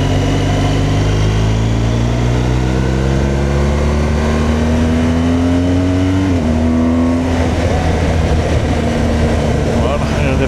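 BMW R1200GS Adventure motorcycle accelerating on a road to pass a car: a loud, close engine note climbs steadily in pitch, dips at a gear change, then rises again under heavy wind rush.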